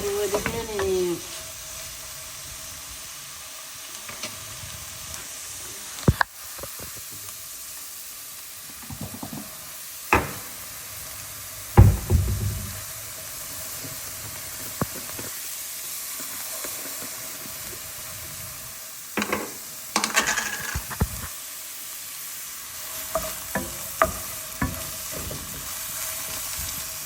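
Spinach frying in a large pan, with a steady low sizzle and hiss under occasional sharp scrapes and clanks of stirring, spaced irregularly over roughly half a minute.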